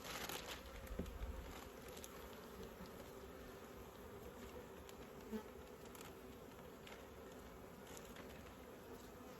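Honeybees buzz steadily around an open hive while a queen and a handful of workers are tended, a continuous close insect drone with faint crinkling handling noises and no talk.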